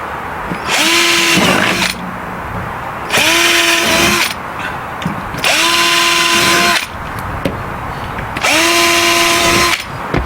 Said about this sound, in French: percer pour les trous.